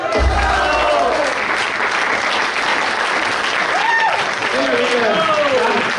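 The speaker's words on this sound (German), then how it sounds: "einen riesigen Applaus" Loud applause from a theatre audience after a comedy sketch, sustained clapping with excited voices and calls rising over it throughout.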